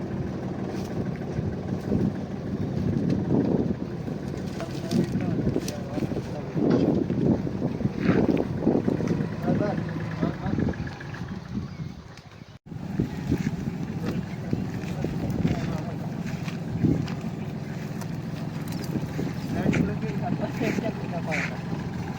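A tractor loaded with mosambi crates rolls over a rough village road, its steady low engine rumble continuous throughout, with wind buffeting the microphone and a brief dip midway.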